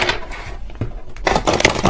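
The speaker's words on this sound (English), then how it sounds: "Let me see if I can actually shuffle this deck." A stiff deck of tarot cards is shuffled by hand, giving a brief close riffle, then a louder burst of rapid flicking and slapping near the end.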